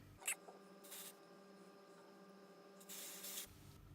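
Short hissing bursts of an IGK pastel pink hair color spray can, a quick puff followed by a longer spray, close and fairly quiet over a faint background hum.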